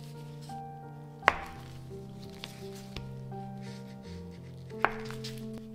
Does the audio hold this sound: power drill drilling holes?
no